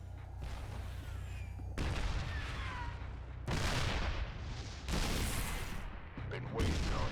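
Siege tanks fire at Protoss photon cannons in StarCraft II, heavy booming blasts in repeated bursts over a low rumbling bed, with a voice faintly present.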